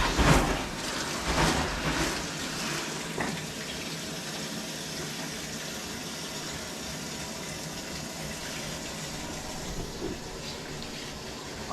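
Frigidaire washing machine filling with water on a normal warm cycle, a steady rushing flow with a few louder splashes and clunks at the start, then a constant gush.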